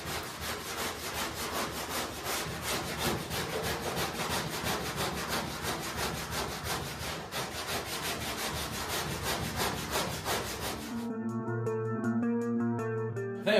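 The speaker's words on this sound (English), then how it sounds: "I think we got it all sanded off here." Rhythmic hand sanding of body filler on a 1968 Pontiac Firebird, fast back-and-forth rasping strokes close to the microphone, stopping abruptly near the end as a faint tonal sound takes over.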